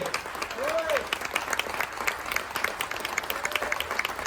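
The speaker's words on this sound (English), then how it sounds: "please give him a nice round of applause" Scattered clapping from a crowd at a military appreciation event aboard the cruise ship Carnival Breeze, fairly soft and steady, with a voice briefly audible near the start.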